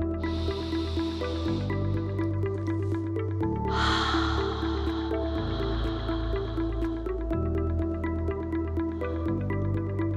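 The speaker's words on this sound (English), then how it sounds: "Just make sure every time you're exhaling, you are also doing a good inhale." Slow, controlled breaths in and out during a postpartum core exercise for diastasis recti healing, several long airy inhales and exhales close to the mic, layered over steady background music that plays throughout.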